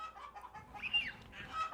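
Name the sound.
chickens clucking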